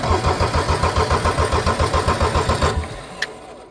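A tractor engine failing to start on a cold, snowy farm: a loud, near, rhythmic starter cranking churns for under three seconds, then stops abruptly, followed by a brief click.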